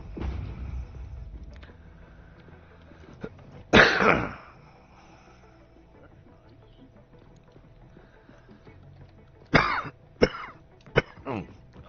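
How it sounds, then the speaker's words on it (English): A person coughing hard in a room, with one heavy coughing burst followed a few seconds later by a rapid cluster of sharp coughs, close and loud over a quiet background. "Can't stop coughing."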